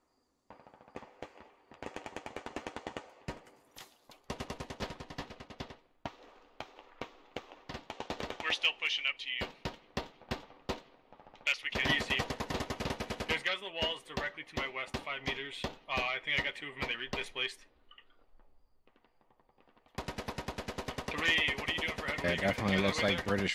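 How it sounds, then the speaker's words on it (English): Gunfire in the military shooter Squad, with bursts of automatic rifle and machine-gun fire, rapid cracking volleys broken by short pauses, some near and loud, some more distant, over a voice talking. "We're getting hit from the southeast with some stragglers shooting at us from the north."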